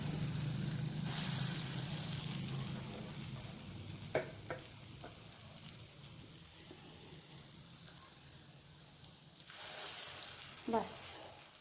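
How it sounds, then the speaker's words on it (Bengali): Fritters of ground urad dal paste fry on a tawa with a steady, close sizzle, broken by a few sharp clicks and stirring clatters; a burst of louder spitting oil comes near the end. "এগুলা ভাজা হোক, তারপরে আরেকবার হবে।"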